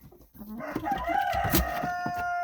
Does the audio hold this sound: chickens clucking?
yes